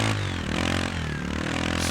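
An off-road motorbike in the Overpass video game idles through slow, low engine revs as it crawls over rock, a steady, close, mid-loud rumble with no talk.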